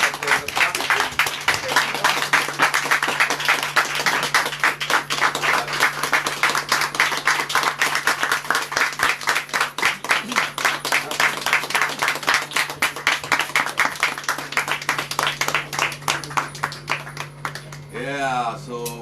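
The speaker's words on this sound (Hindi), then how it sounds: "ताली बजा के स्वागत करते हैं सबका।" A church congregation claps in welcome at a prayer gathering, with dense, sustained, rhythmic applause filling the room and a steady hum underneath, fading near the end as voices take over.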